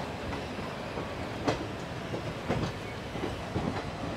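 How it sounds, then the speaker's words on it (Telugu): The Satavahana Superfast Intercity Express rumbles steadily as it crosses over points near Secunderabad Junction, with sharp wheel clacks about once a second over the constant roar. "మనమైతే ట్రాక్ చేంజ్ అవుతూ అటు చివరి లైన్కి వెళ్ళిపోతాం"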